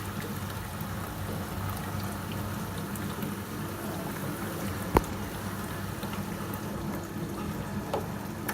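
Steady rushing water fills the tub of a dishwasher that is not draining. The flow stays even throughout, with one sharp click near the middle and no voices.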